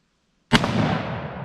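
A rifle round strikes an AR500 steel armor plate with a single sharp, loud impact crack that rings and decays over the following second, with no talk over it.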